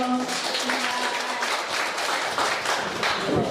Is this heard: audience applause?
yes